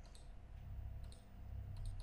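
Mouse clicking while drawing curves in Corel Draw, a few faint, quiet clicks spaced irregularly over a low background hum, with no talk.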